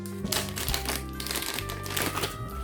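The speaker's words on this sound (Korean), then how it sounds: "하나하나 이렇게 비닐에 다 포장이 되어 있구나." Plastic wrapping around the parts of a SENA 10C EVO motorcycle helmet camera being handled, close, steady crinkling and rustling over a faint background hum.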